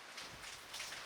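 Rain falls on King Island, heard from a barbecue shelter as a faint, even hiss of drops with light patter and no voices.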